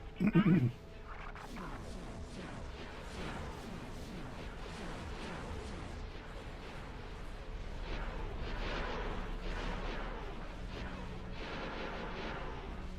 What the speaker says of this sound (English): we'll just bombard the hell out of this